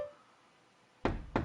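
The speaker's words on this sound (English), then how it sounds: "Somebody knocking on the door?" Two sharp knocks on a door sound close and loud after a second of quiet, spaced about a third of a second apart, in the game Daedalus.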